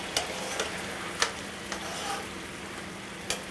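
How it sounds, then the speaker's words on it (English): Lemon caper sauce reduces over high heat in a pan, a steady close bubbling sizzle punctuated by a few soft ticks and pops, with no talking. "going to turn up the heat so we can really boil it down to a thick reduction sauce"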